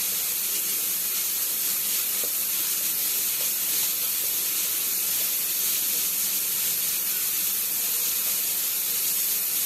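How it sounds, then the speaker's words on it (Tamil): About two spoons of ghee heating in a pot for chicken biryani, making a continuous soft hiss and sizzle that holds steady without breaks, with no voices. "ஒரு 2 ஸ்பூன் அளவுக்கு கீ ஊற்ற போகிறேன்."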